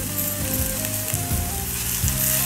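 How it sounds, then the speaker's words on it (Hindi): Ginger garlic paste sizzles loudly in hot oil with fried onions, a dense continuous frying crackle close to the pan, with soft stirring bumps and no talking. "अदरक लहसुन का पेस्ट अच्छी तरह फ्राई हो गया"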